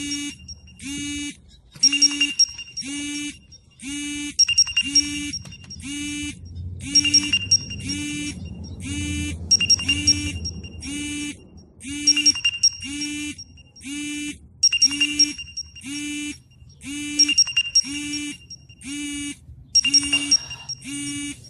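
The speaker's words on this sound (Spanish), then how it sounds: "Mi alarma acaba de sonar." A morning wake-up alarm sounds in repeated bursts of rapid electronic beeps, about eight pulsed rounds separated by short pauses, loud and near, with faint background rumble in the middle.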